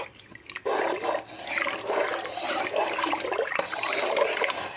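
Water poured from a measure into a pot of khichdi, a steady splashing pour that starts abruptly and keeps running close up for several seconds, with no talking.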